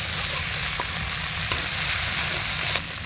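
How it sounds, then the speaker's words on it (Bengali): Coriander leaf paste, garlic paste and green chillies fry in hot oil with a continuous close sizzle, broken by a few faint clicks of stirring. "একটু ধনিয়া পাতা বাটা, একটু রসুন বাটা, একটু কাঁচা লঙ্কা, এটাও ভেজে নেবো একটু হালকা করে।"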